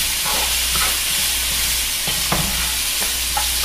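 Spices for Cincinnati chili cooking down in a pot, giving a steady close sizzle and frying hiss with occasional stirring scrapes and clicks, no talking.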